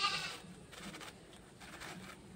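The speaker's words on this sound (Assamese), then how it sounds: "ছাগলীকেইজনী কেনে কান্দি আছে দেখিছে" Goats in a rural farmyard bleat in a few short, faint calls, one after another, with no one speaking.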